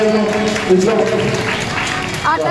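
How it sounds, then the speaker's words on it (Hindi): Loud, continuous applause from the crowd at a Shiv Mahapuran religious gathering on the Ganga bank in Haridwar, as a saint is honoured with garlands and shawls; people talk over the steady clapping. "जोरदार तालियों से"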